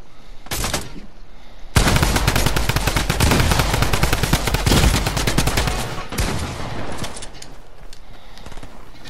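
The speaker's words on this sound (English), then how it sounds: "Dick, I just got shot" Rapid automatic gunfire from a Fortnite match fills the track, a short burst first and then a loud sustained volley of overlapping shots that trails off into scattered fire.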